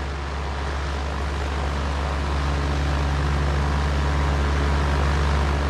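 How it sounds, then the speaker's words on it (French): Junkers propeller aircraft climbing on a test flight, a loud, steady, continuous engine drone with deep throbbing prop hum that holds constant throughout, close and without talk. "Lors d'un essai, l'engin fait une ascension époustouflante et atteint une altitude de 6750 mètres, du jamais vu."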